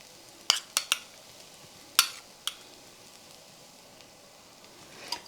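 A metal dosa ladle scrapes and taps against a hot pan while spreading pesarattu batter with onion, giving a few sharp clicks and scrapes over a faint background hiss.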